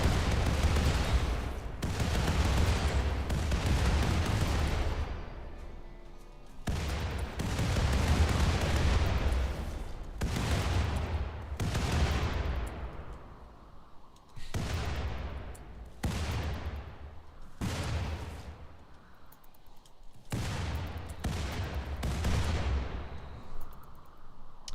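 Turrets fire in the video game Rimworld as a series of loud, sharp bursts and booming shots, repeated throughout in irregular volleys with short gaps, each blast decaying quickly.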